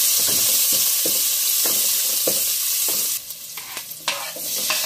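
Onions frying in a pan give a loud, continuous sizzle, broken up by repeated scraping stirs. Near the end the hiss briefly drops away, then comes back.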